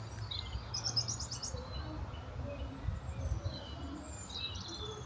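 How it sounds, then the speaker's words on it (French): Birds sing and chirp outdoors, faint and distant, in a few brief trilling phrases over a quiet, still background. "Depuis la cuisine, j'entendais les oiseaux chanter."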